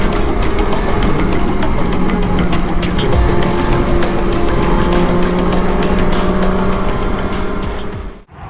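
A motorcycle riding fast on the German autobahn, a loud steady roar of engine and wind rushing continuously, close and unbroken, with no talking.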